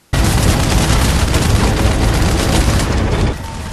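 Gunfire and explosions from the Terminator Salvation video game on PS3/Xbox 360 erupt abruptly into a loud, dense, continuous barrage of rapid shots and booms that eases slightly near the end.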